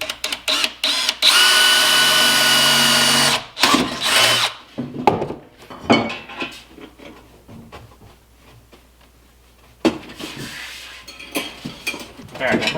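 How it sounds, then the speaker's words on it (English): A power drill bores a hole in wood with a loud steady whir for about two seconds, then stops, followed by scattered knocks, clatters and handling noises. "Let's try a 13/64 drill bit."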